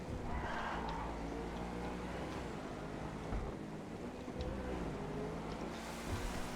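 A Truffade Thrax sports car in GTA gives a steady, loud engine drone with low harmonic hum throughout, rising slightly near the end, idling and cruising.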